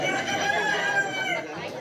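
A rooster crows in a rural Konkan village at dawn, one sustained, fairly loud call filling the moment, with a faint murmur of background noise.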